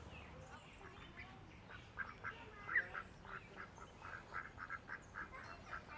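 Ducks quack in a loose series of short calls at a moderate distance, over a soft, steady outdoor background hiss, at Chamarel, Mauritius.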